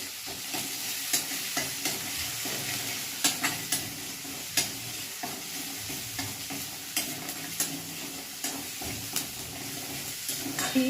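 Ginger garlic paste sautéing in hot oil, a continuous soft sizzle with repeated spatula scrapes and taps as it is stirred, with no talk over it.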